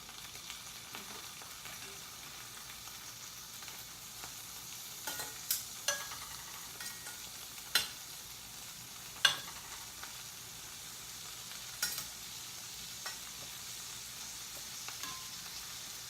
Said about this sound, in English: you want to make sure you spread your shrimp out flat so that they each have room to cook